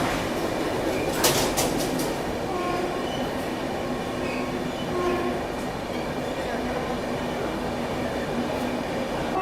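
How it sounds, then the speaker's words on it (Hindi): A passenger train pulls into Surat railway station at night, a loud, steady rolling rumble with rhythmic clatter and a brief high squeal of wheels near the start, continuing close and unbroken throughout. "तो बिल्कुल ऑन टाइम ट्रेन यहाँ पहुँची है"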